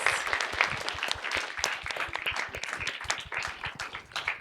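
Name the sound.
audience applause for panelists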